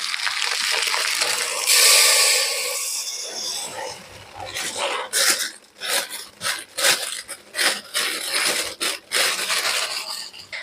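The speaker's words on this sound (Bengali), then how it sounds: "প্রথমে আমি মুসুর ডালগুলোকে ভালো করে ধুয়ে নিই" Red lentils (masoor dal) are washed by hand in water, a wet rushing pour followed by repeated rubbing, sloshing swishes in an uneven rhythm, close and clear.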